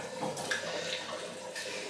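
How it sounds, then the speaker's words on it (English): Water drains from a sink after a wet shave with a safety razor, making a soft continuous rushing gurgle close by that pulses slightly for a couple of seconds. "I'll let the water out."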